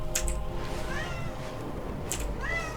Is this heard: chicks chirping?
no